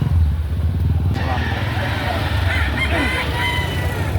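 A rooster crows loudly nearby amid clucking chickens at a place selling chickens, with people talking and an engine rumbling in the background.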